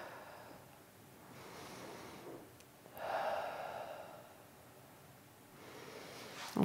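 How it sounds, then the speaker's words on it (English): Slow, soft breaths drawn in and let out during a yoga stretch, faint and close, with a gentle rise and fall and no talking. "And breathe."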